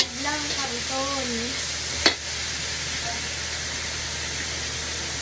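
Pancit canton noodles being stir-fried, a continuous hissing sizzle with one sharp clack of a utensil, a voice speaking briefly at the start.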